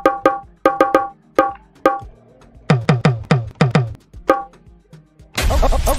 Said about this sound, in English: They have talking drum number 5.